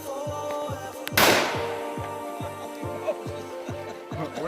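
Glock .40 pistol shots fired outdoors, one sharp loud report followed by its decaying echo, heard over a repeating background rhythm.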